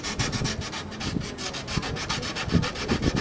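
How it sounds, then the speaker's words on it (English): Steady back-and-forth scraping of sandpaper rubbing on violin wood, removing varnish and glue, a continuous rhythmic abrasive sound, close up with no voices. "So we're actually sanding down the globs of glue as well."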